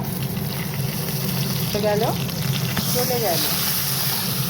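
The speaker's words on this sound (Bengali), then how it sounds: "এটাকে একটুখানি ভালো করে ভাজা ভাজা করবো।" Half a fish head fries in hot oil with cumin seeds, bay leaf and dried chilli, giving a steady close sizzle and bubbling while someone talks over it.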